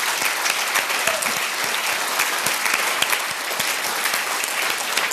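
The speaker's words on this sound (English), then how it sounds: "I would like to ask you to give them one more round of applause this evening." Sustained applause from an evening awards-ceremony audience, a dense even wash of many hands clapping throughout, steady and fairly loud with no pauses.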